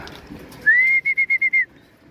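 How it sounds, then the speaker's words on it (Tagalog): A single bird gives a clear whistled call nearby: one rising note, then five quick repeated pulses, alone against a quiet background. "meron tayong ibon sa labas"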